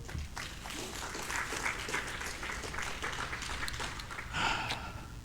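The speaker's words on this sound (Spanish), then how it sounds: "Aplauso a nuestro Dios." A congregation at a church service gives a fairly quiet, continuous round of applause, with a few faint voices mixed in.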